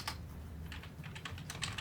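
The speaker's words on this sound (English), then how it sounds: "we're gonna start by typing medium" Steady clicking of keys on a computer keyboard, several quick taps in uneven bursts, close and clear over a low background hum, with no voices.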